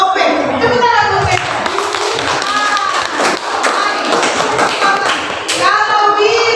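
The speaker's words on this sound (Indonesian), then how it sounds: "Tepuk tangan buat si video." A classroom of students clapping their hands together, close and fairly loud, with children's voices chattering and calling out over and around the claps throughout.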